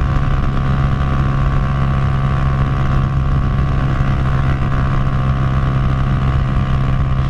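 A fuel-injected Honda Titan 150 motorcycle engine holds a loud, steady drone at speed, a continuous engine hum with wind rush and no break or talking.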